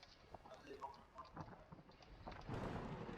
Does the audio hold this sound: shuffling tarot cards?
no